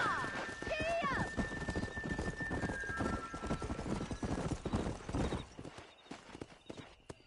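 A horse in the Red Dead Redemption game gallops with loud, rapid hoofbeats and gives a sharp neigh near the start, the pounding continuing up close before fading out at the end.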